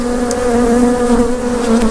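Honey bees buzz in a dense, steady drone at an opened hive during a split, the hum close and continuous for a couple of seconds with no talk.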